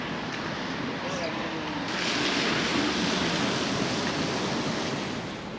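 Ocean waves roll in along a seafront promenade in Morocco, a steady broad wash of surf that swells slightly louder partway through, with some wind noise mixed in.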